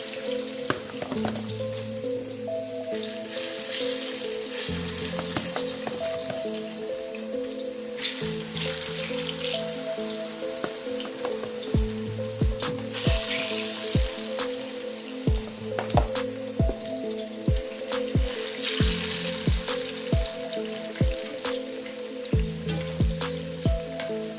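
Plantain slices fry in oil in a pan on a stove turned down low, giving a steady close sizzle with repeated sharp taps and clicks as pieces are moved and lifted out with a spatula.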